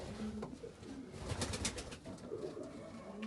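A cock pigeon sitting in a nest pan coos softly and repeatedly in a quiet loft, the low cooing faint and close.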